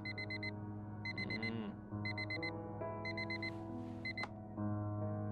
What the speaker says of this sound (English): Every day that alarm goes off. I should change the tone on it.